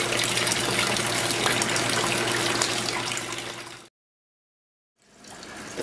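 Discharge water runs out of a pump after the oil feed is shut off, a steady gushing flow that tapers and cuts to silence, then resumes more faintly.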